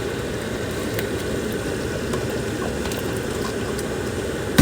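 A pot of beef stew with spaghetti in it simmers steadily, giving off a constant low bubbling rumble with faint ticks and pops near the end, and no voices.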